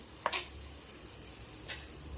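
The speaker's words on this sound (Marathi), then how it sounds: "कडकडीत गरम तूपच आपल्याला याच्यामध्ये घालायचं आहे" Piping-hot ghee poured into flour for karanji dough and stirred with a spoon, giving a brief sizzling crackle at the start, another short burst later and a low steady hiss between, fairly quiet throughout.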